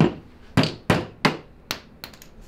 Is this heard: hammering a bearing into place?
yes